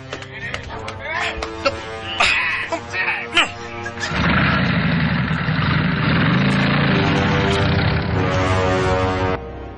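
A motorcycle engine starts up and runs with a steady, loud mid-pitched drone after a stretch of people talking and clattering sounds nearby.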